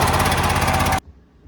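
The engine of a towed backhoe runs loud and close in a steady, rapid pulsing chug, then cuts off abruptly after about a second, leaving only faint low rumble.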